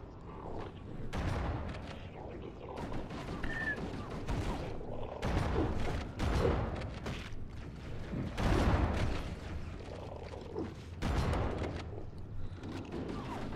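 Continuous video-game gunfire fills the Library level of Super Halo Bros as enemies are shot, with dense overlapping bursts and booms in a loud, unbroken barrage.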